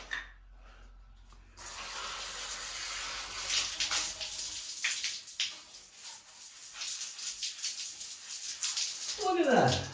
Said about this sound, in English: Pick that gear up, bring it on over to the bum gun.